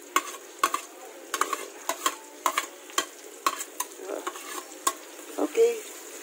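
Onions frying in a pan for garlicky adobo, with repeated sharp clinks and scrapes of a utensil stirring over a low, soft sizzle, close up and without voices.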